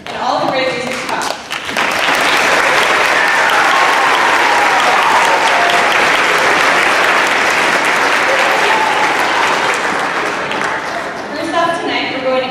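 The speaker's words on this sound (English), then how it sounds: "Let's start off with a round of applause for these student musicians and all the great music to come." Loud, sustained audience applause for student musicians at a concert, dense clapping filling the hall for about ten seconds before tapering off near the end.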